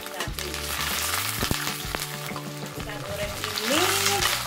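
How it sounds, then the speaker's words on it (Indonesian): Shallots, garlic, galangal and a chili fry in a little hot oil, giving a loud, continuous sizzle with occasional stirring scrapes close by. "Kita goreng bawang merah, bawang putih,"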